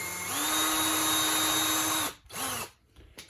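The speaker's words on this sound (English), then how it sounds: "I'm going to drill a couple of holes." A power drill runs steadily for about two seconds, stops, then gives a second shorter burst while holes are bored for a pottery-corner tool, loud and close with no talking.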